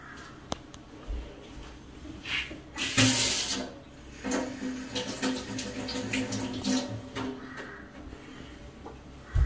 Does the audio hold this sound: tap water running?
yes